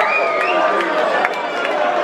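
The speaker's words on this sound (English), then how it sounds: "let's have a huge round of applause, please, for your golden robe winner of Ultimate Boxxer 2" Crowd at a boxing event, a busy hall of cheering and chatter mixed with scattered sharp claps, loud and continuous with overlapping voices throughout.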